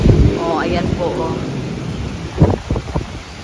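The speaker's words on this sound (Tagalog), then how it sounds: "Pero napakalakas pa po ng hangin." Strong typhoon wind buffets the microphone in Metro Manila, a loud, gusty low roar with a voice speaking over it.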